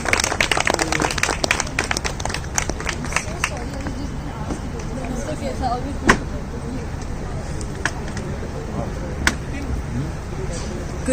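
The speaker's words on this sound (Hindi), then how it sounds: "जोरदार तालियां बजा दीजिए, कम ऑन गाइस।" A live audience at an Indian pageant event claps and applauds steadily, a dense patter of hand claps filling the room with a few sharper peaks, while an announcer's voice carries over it.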